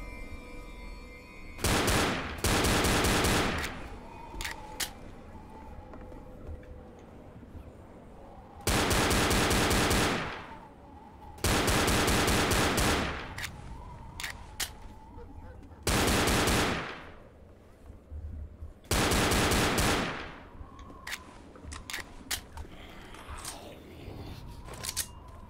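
Automatic gunfire in Left 4 Dead comes in long, loud bursts of rapid shots repeated about seven times, separated by quieter gaps of game ambience.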